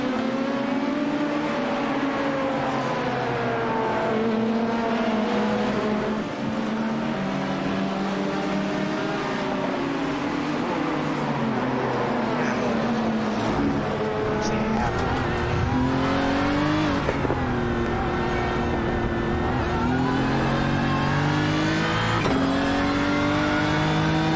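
LMP prototype race cars in a racing video game at Sebring roar past one after another, engines rising and falling through gear changes, loud and continuous with no talk.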